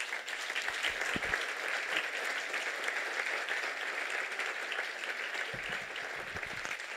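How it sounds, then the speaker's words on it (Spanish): A church congregation applauds at a Spanish-language Christian sermon, sustained clapping from many people for around seven seconds, even and somewhat distant, with a few low thumps near the end. "¿Alguien puede darle un aplauso al Señor?"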